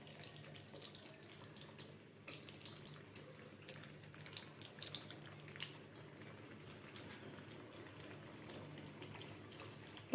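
Food lowered one by one into hot oil in a pan sizzles and crackles steadily at low volume, a continuous fine hiss with scattered pops and no talking.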